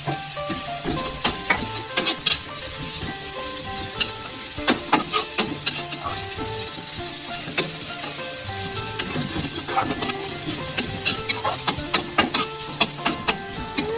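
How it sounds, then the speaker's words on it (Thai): Pork stir-fries in a pan with ready-made stir-fry sauce, a loud steady sizzle broken by frequent scraping and clacking strokes of the spatula, close up throughout. "ใส่หมูลงไปผัดเลยจ"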